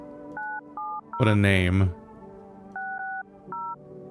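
Telephone keypad dialing tones from the video game No, I'm not a Human: paired-pitch beeps come in short bursts, a cluster of four, then a pause while someone speaks loudly, then three more beeps afterward.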